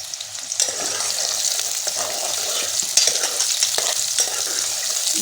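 Onion sizzles and fries in two spoonfuls of ghee in a pan for black tori curry, a steady, close crackle with a few faint clinks of stirring and no talking.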